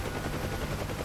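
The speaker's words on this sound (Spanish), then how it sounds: "ahora están disparando, no sé a quién, pero bueno, están disparando y matando perfectamente el artillero" A door gunner's machine gun fires from a UH-1H Huey helicopter in the DCS flight simulator, a dense, continuous rattle of rapid shots over a heavy rotor and engine roar.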